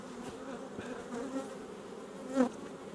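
Honey bees from an aggressive hive buzz steadily around an open colony during queen cell installation, a dense droning hum with a few louder passes of bees flying close by.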